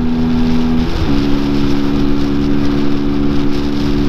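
A Peugeot PM-01 motorcycle engine pulls steadily uphill, a loud continuous drone with a slight dip in pitch partway through, constant throughout.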